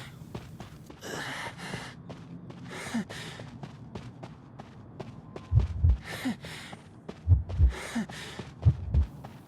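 Heartbeat warning cue in the asymmetric horror game Identity V, heard as low thumping pulses in pairs that grow louder toward the end, mixed with other game sounds, breathy gasps and faint background activity.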